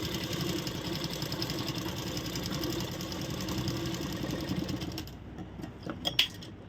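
A sewing machine stitches thick blouse fabric with a steady, fast mechanical whir and rattle for about five seconds, then stops, leaving a few faint clicks and handling noises.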